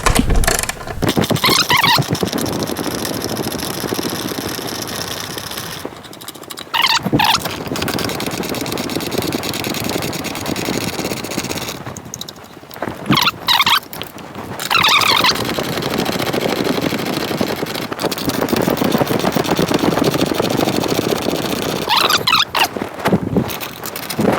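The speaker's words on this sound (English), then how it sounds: "let's take out this screw and this screw, and we'll get them out of there" Screws being backed out of a wall-mounted TV bracket with a power driver, giving repeated loud whirring and squealing bursts of a few seconds each, separated by short pauses, close to the microphone with no talk.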